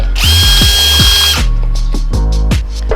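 An XCORT cordless drill drilling into wood, a loud high whine at first, then a run of rapid rhythmic ratcheting clicks as the motor pulses, all close and strong.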